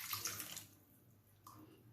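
Water splashing and pouring into a bowl of bambara nut flour for okpa batter, a burst of rushing water at first, then quieter trickling with another brief pour near the end.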